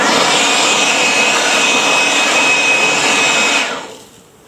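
A vacuum cleaner sucks up plastic swarf left from drilling a box, roaring loud and steady up close for several seconds before switching off and winding down.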